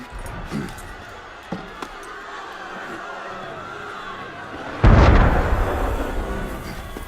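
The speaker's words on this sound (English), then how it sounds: "That was cannon fire." A single heavy cannon shot in the Assassin's Creed Unity game, a loud sudden boom that rolls off into a long rumbling tail over a murmuring crowd ambience.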